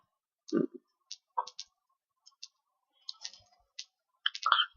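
A computer mouse clicks repeatedly on a desk, sharp, close clicks scattered irregularly, some in quick pairs, with faint handling noise between.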